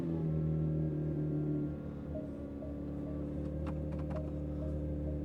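A Porsche 911 GT3's flat-six engine settles from its start-up into a steady, deep idle, a strong close rumble with a slight drop in level early on and a few faint clicks above it.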